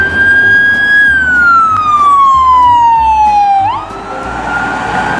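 Electronic siren from a toy ambulance, a loud, near, sweeping wail that glides slowly down in pitch and then jumps back up, over a low rumbling background with no talk.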